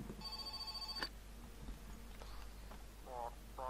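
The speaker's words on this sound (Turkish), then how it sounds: "Telefon çaldı." Telephone in the game My Summer Car rings with a short electronic trill that stops after about a second, followed by quieter clicks and bumps.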